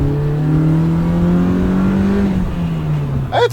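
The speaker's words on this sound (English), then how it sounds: "It feels lively at the high RPMs." A car engine revs hard at high RPM on tight roads, a loud, close, sustained drone that climbs and holds before dropping away near the end, with tire noise beneath it.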